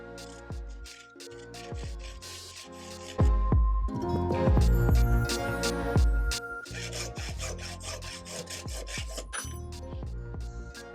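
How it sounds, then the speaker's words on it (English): A threaded shower plumbing pipe is cut slowly and carefully, producing close, uneven rasping and scraping strokes with clinks of metal, continuous throughout and strongest in the middle. "Now, very gently, I'm gonna cut it, but I don't want to damage the thread"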